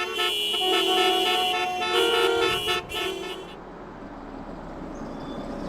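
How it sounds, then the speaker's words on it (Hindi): Car horns honk in a stalled traffic jam, several loud, overlapping blasts holding for a few seconds before cutting off and leaving a steady hum of idling traffic. "Traffic jam."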